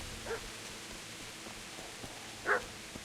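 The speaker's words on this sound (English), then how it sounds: "I hear the dog barking." A couple of short dog barks in the video game Kingdom Come: Deliverance, distant and faint, over a steady background hiss with no talking.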